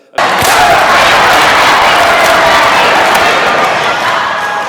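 A packed school gym at a high school pep rally erupts into a loud, sustained roar of cheering and screaming from the crowd that carries on without a break.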